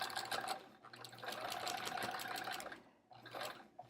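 Sewing machine with a walking foot quilting a Splendid Sampler quilt, humming in a steady, fast, close whir that briefly slows and pauses before starting again, with no talking.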